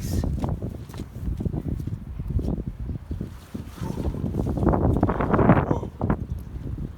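Wind gusts catch a plastic sheet held up like a kite outdoors, making a steady, loud buffeting rumble with rustling flaps that swell toward the end, while a voice exclaims briefly.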